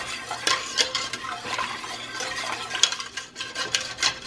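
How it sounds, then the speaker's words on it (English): A whisk and spoon scrape and clink in a pot as liquid is stirred into a low-carb ham and potato soup base, busy irregular stirring noises close by, with no one talking over them. "if you add your liquid slowly and stir it in carefully, let me go get a whisk"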